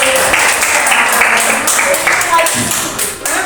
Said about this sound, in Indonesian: Kasih tepuk tangan dulu untuk kinestetik